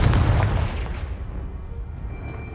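A fiery Confringo spell blast in the Hogwarts Legacy video game lands as a loud, deep boom that rumbles and slowly decays, followed by faint debris sounds.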